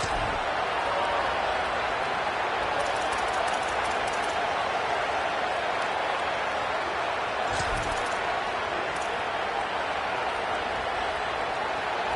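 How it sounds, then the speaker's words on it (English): Home crowd in an NCAA college football video game, a steady loud roar of cheering fans filling the stadium throughout, with no clear breaks or peaks. "this home crowd getting involved right from the start"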